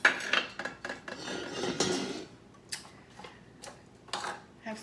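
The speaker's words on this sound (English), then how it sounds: "Here's an enamelware or a gray graniteware strainer." A gray enamelware graniteware strainer handled at an estate sale, with light metallic clinks, rattles and a brief scraping rustle, close and quiet.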